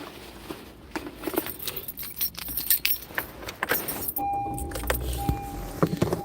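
A set of keys jangles in repeated metallic clinks beside a car, with traffic and vehicle rumble in the background and a brief electronic beep tone near the end.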